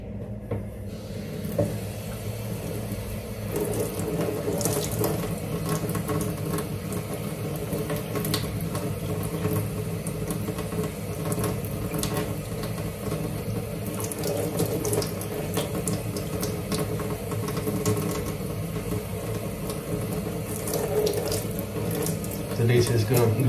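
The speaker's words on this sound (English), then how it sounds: "So now I just need to clean the feathers, wash them with water." Teal feathers are rinsed under a running kitchen tap, a steady rushing stream of water splashing into a sink with no pauses and some faint clinks, continuous and close throughout.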